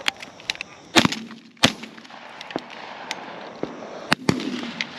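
Shotgun blasts ring out during a dove hunt, a string of sharp, loud reports at irregular intervals, some close and some farther off, with no talk between them.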